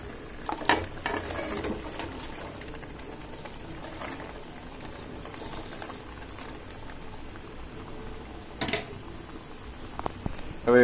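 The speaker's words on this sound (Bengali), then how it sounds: "এবার আমি ফুলকপি আর শিমগুলো দিয়ে দিচ্ছি।" Cauliflower and beans sizzle and bubble in a hot pan as they are stirred, a steady simmering hiss with occasional clacks of the utensil against the pan.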